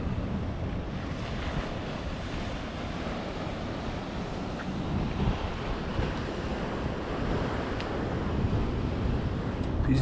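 Waves wash against the breakwater at Coffs Harbour, a steady broad rushing surge of sea under gusty wind buffeting the microphone, continuous and fairly loud with no clear pauses.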